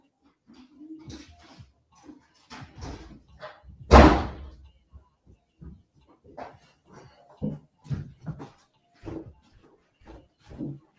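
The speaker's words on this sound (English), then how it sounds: "I got to unlock my front door." A front door is unlocked and opened: scattered clicks and rattles of the lock and handle, one loud thump near the middle, then more light knocks and clatter in a quiet room.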